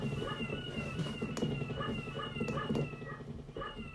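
A cat meows repeatedly in a steady series of drawn-out cries, close and fairly loud, with no talking.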